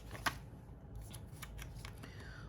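A planner sticker sheet being cut in half with scissors, a quick close snip followed by soft papery rustling, very quiet overall.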